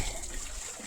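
Clear snowmelt water runs down from the mountains in a stream in Himachal Pradesh's Boh Valley, on the trek to Khabru waterfall, giving a soft, continuous trickling rush heard faintly at a distance.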